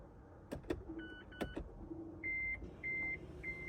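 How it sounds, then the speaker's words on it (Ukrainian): A faint electric parking brake motor on a Mazda 6 whirs briefly amid a few clicks, followed by a series of three steady electronic beeps. "це у нас затягнуло ручник"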